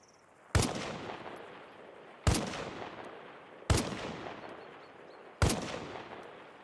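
Four loud rifle shots ring out at targets in the shooting game Arma Reforger, evenly spaced about 1.5 seconds apart, each a sharp crack followed by a long decaying echo.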